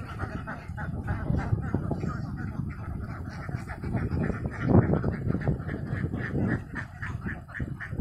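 Ducks on a farm pond quacking in a continuous rapid chatter, a dense, close flock sound that stays fairly even throughout with a brief louder swell in the middle.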